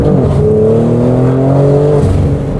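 Exhaust of a BMW G80 M3 with a manual gearbox, a loud, deep, smooth engine drone that rises and falls in pitch as the revs climb and settle, heard close and alone.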